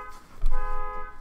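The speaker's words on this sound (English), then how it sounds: "my alarm I just set off with my car." A car alarm, set off by accident by keys in a pocket, gives a short loud steady tone that sounds close by.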